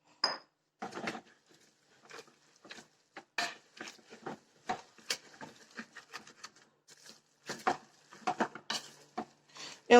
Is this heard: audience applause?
no